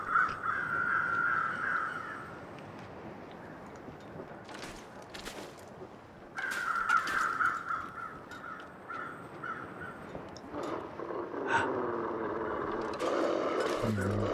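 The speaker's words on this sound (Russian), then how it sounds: "Вороны кружили над телом." Crows cawing in the survival game The Long Dark, repeated harsh calls in bursts over a steady wind-like background, with a few sharp louder cries and occasional game noises.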